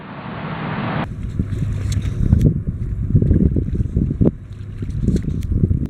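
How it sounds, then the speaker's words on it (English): A timber barge's engines start up and run on open water as it leaves a logging site, a steady loud low rumble mixed with wind and water noise after a brief initial hiss. "The engines fire up."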